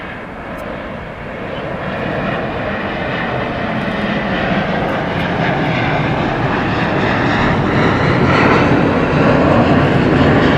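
A JetBlue airliner arriving at LAX roars in with a broad, steady jet rumble that grows gradually louder as it approaches, with no voices over it.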